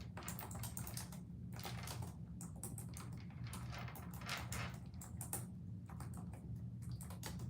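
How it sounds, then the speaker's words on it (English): Rapid, uneven clicking of someone typing on a computer keyboard, faint and continuous, with short pauses between bursts of keystrokes. "I'm typing this in the chat"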